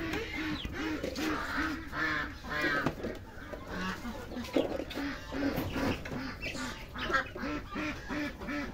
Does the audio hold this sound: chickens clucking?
yes